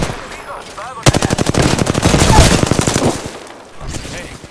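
Rapid automatic gunfire in a shooter video game rattles out in a long, loud, near burst, with a shorter volley following after a brief pause.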